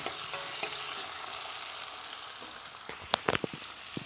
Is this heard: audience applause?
no